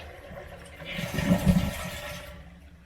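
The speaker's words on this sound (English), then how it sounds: "Flush the toilet, let everything down." Toilet flush on a toilet being fitted with a Moen 5-Series bidet seat, water supply shut off: a short rushing swell peaking around mid-clip, then draining away, fairly close.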